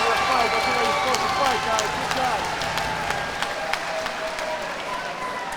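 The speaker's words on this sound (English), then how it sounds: "let's have a round of applause for an amazing debut from these 2" A crowd at a bare-knuckle fighting event applauds and cheers after a five-round fight, a steady wash of clapping under a loud announcer's voice.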